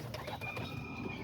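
A homing pigeon coos softly and faintly nearby, a brief low murmuring coo against quiet background noise.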